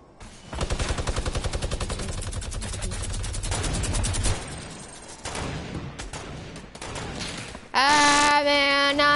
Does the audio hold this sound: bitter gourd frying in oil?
no